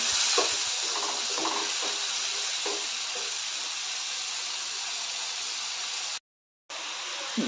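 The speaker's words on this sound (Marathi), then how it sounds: "सर्व व्यवस्थित तेल सुटेपर्यंत परतून घ्यायचं" Ginger, garlic and cashew paste sizzles in hot oil for a dhaba-style cashew masala gravy, a steady hissing fry with faint stirring scrapes and a brief dropout near the end, with no voices.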